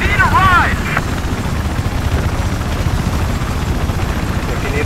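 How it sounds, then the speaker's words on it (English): A helicopter in Battlefield 4 gives a loud, steady rotor and turbine roar close by, continuous throughout with a brief high game effect at the start. "There's a chopper to your north."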